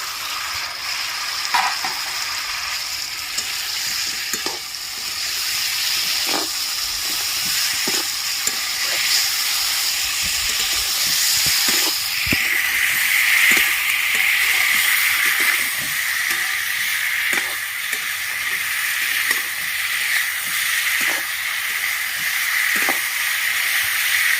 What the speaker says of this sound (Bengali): ভালো করে কষানো হয়ে গেছে ভেজে রাখা পটল আর আলু আমি দিয়ে দিচ্ছি